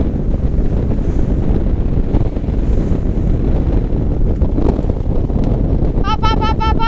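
Strong wind roars across the microphone on a sailboat at sunset, a dense, continuous loud buffeting with water rushing beneath, and a short high electronic beeping near the end.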